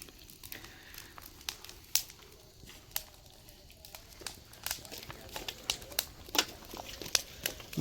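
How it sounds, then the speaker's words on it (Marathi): An open fire burns around buried clay pots for village popti cooking, crackling and popping in irregular sharp snaps over a low hiss, close by. "मस्तपैकी आग पेटली आहे."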